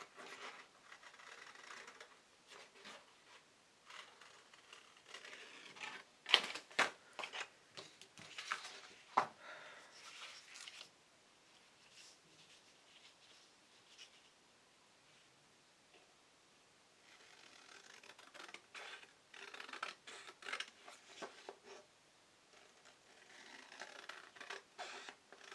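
Journal cover material is cut in a quiet indoor crafting setting, with scratchy snips and rustles that come in clusters and pause in between, near and soft with no speech.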